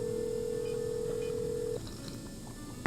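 Telephone dialing in the Nancy Drew video game Treasure in the Royal Tower: a steady tone holds for under two seconds, then short key beeps follow and a soft click ends it.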